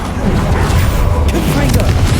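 A Bombarda spell explodes during a Hogwarts Legacy battle, a loud, dense rumbling boom with crackling debris that fills the whole short moment.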